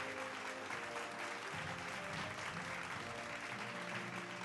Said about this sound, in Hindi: जोरदार तालियों से स्वागत कीजिए मनोज का